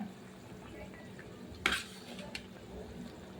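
A spoon stirs cumin and chili paste into a simmering fish curry in a pot. There is one distinct metallic clank and a faint scrape over quiet bubbling, all at low volume.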